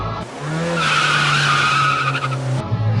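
A voice imitates a motorcycle drifting and skidding, a sustained screeching tone held for about two seconds with a rising and falling pitch, fairly loud and close.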